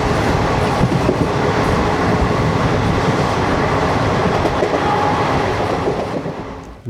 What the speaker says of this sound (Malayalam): ഇത് ഭോപ്പാൽ ജോധ്പൂർ എക്സ്പ്രസ് ആണെന്ന് തോന്നുന്നു.